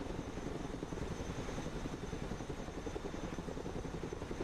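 Steady rotor thrum of a Chinook transport helicopter in the Broken Arrow strategy game, a continuous low whirring drone at moderate level with no voices.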